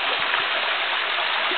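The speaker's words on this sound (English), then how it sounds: "Beautiful waterfall." A waterfall at Gwanaksan on a hiking trail pours in a steady, dense hiss of rushing water that holds constant throughout, with no voices.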